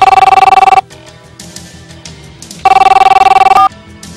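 Loud electronic telephone ringback on an outgoing call plays in two bursts of rapid warbling tones, separated by a quiet pause.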